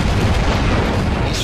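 Rocket launcher fire from the Doom Brutal mod, with dense, roaring blasts rumbling continuously and loudly for the whole stretch.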